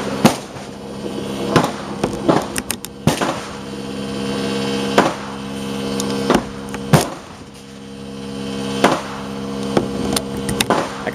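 Gunshots from a shooting session with a person's own firearms: about a dozen sharp, loud cracks at irregular intervals, some in quick pairs, fired close by with no talking in between.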